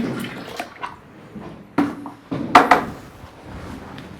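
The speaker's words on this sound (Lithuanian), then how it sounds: "Pilam vandenį." Water splashes and gurgles into a bucket for mixing plaster mortar in short bursts, with a few louder pours near the end, close by and without talk.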